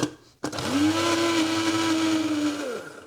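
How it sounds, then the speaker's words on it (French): After a brief click, a blender whirs up and runs steadily for about two seconds, blending green oil with frozen grated ginger, loud and close with a sustained motor whine that winds down at the end. "Je mixe une dernière fois."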